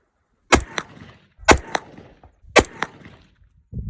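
Three loud gunshots from a B&T APC10 at an outdoor range, evenly spaced about a second apart, each a sharp crack followed by a short echo, with no talking.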